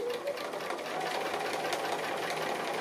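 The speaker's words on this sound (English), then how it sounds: "I'm just going to start somewhere and stitch on the applique" A sewing machine stitching appliqué close to the fabric edge runs in a fast, steady mechanical chatter, close and alone for a few seconds.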